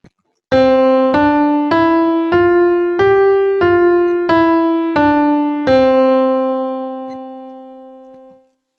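Piano notes step up and back down in an even, steady five-note pattern, played alone, with the last note ringing out and fading.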